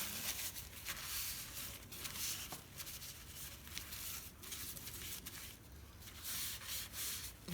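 A napkin wipes excess wet glue off paper on a junk journal insert, making soft, close rubbing strokes in a steady back-and-forth rhythm with no talk.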